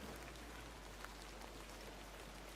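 Steady, even rain hiss from the video game The Excavation of Hob's Barrow, a soft continuous patter with a low rumble underneath and no voices.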